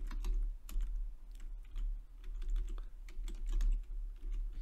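Keystrokes on a computer keyboard during a Korean-language lesson on the Greek text of 3 John, tapping in uneven bursts of quick clicks over a steady low hum, close and moderately loud, with no talking.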